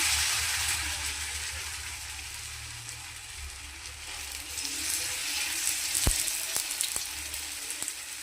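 Egg balls frying in white oil in a pan: a loud, steady close sizzle and crackle throughout, with a few sharp utensil taps near the end.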